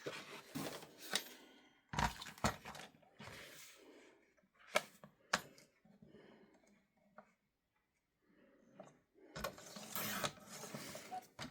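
Paper bag journal page trimmed for length, with scattered crisp snips and rustling handling of the paper, soft and close, broken by a near-silent pause before a longer burst of crinkling.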